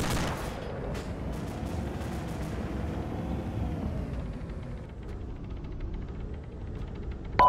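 Gunfire from the military video game Arma 2 during a Marine Corps patrol through Takistan: sharp cracks at the start and scattered shots over a rolling, rumbling backdrop of distant fire, with no voices.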